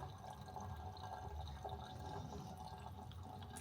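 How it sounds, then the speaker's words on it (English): Water trickles and drips steadily from freshly rinsed chicken breasts draining by a sink, a soft continuous wet patter with no voices. "rinse the chicken quickly and let it drain well"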